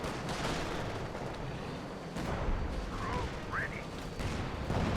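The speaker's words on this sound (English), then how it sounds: "I guess the artillery is hitting the region" Artillery barrage landing on a region in Company of Heroes 2, a dense, steady rumble of distant booms and bursts, with a voice talking over it throughout.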